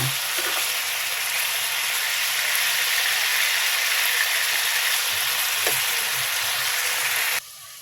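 A loud, steady sizzle of chicken frying in hot oil fills the clip, with occasional pops, then drops away abruptly near the end.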